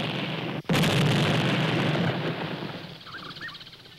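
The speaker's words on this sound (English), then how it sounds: "We make big explosions and listen for the echoes." A seismic exploration charge for oil prospecting goes off with a sudden loud boom, followed by a long rolling rumble that fades over several seconds.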